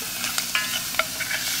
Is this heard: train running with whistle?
no